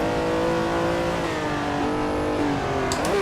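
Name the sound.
Ferrari 330 P4 engine in Assetto Corsa video game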